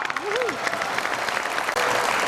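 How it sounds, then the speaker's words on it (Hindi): Steady applause from a crowd fills the whole stretch, dense and even, with a brief voice-like tone near the start. "बहुत सारी तालियों में इसरार।"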